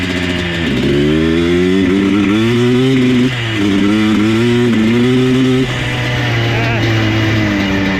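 A repaired abandoned ATV engine running steadily and loud up close, its pitch wavering with small throttle changes and dipping twice, with a voice speaking briefly.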